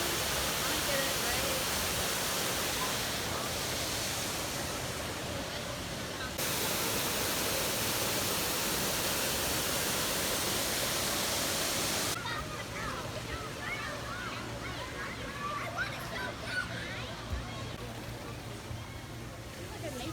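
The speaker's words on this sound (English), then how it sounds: "see this little water stream right here? That's from in the lobby. It comes all the way out here." A small water stream flows past at Disney's Fort Wilderness Resort on a rainy day, giving a continuous rushing, splashing hiss that shifts in tone partway through, with voices at times.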